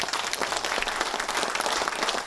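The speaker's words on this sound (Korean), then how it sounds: "이완구 원내대표 힘내라고 큰 박수 한번" Sustained, steady applause from lawmakers at a party caucus meeting, a dense wash of many hands clapping evenly for the whole stretch with no voices standing out.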